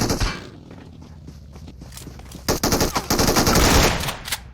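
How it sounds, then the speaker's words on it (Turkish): PUBG Mobile gameplay: several loud, sharp reports from an AMR rifle fire close by, followed by a dense burst of rapid gunfire with footsteps and thuds mixed in. "Oy AMR ile sıkıyor."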